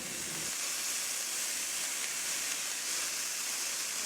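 Tempeh and mushrooms sizzle in a hot pan, a steady loud hiss that begins with a brief low clatter as they are added, then continues evenly.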